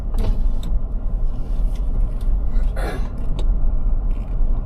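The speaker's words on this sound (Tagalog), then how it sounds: "Can I pull my window a little bit down?" A car's power window motor whirs briefly as the glass lowers, a short mechanical hum rising over steady road and engine rumble inside a moving vehicle, with a few faint clicks around it.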